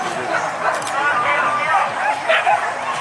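Hunting dogs at a hunt gathering in Batu Basa yelp, whimper and bark excitedly in short, repeated high cries, fairly near, with people talking over them.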